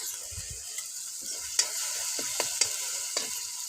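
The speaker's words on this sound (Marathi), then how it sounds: "कोथिंबीर लसूण वाटले थोडं टाकते बरं तळून घेते" Ground coriander and garlic paste frying in a pan over a wood-fired stove, with a steady sizzle and a few sharp scrapes of stirring as tomato, turmeric and salt cook down for a ridge gourd dish.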